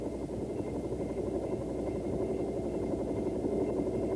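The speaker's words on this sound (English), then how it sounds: "As the helicopter breaks ground, minor corrections with the cyclic are required for a stabilized vertical ascent" A Bell AH-1 helicopter lifting off into a hover, heard as a steady, dense rotor and engine drone that stays loud and even throughout without pause.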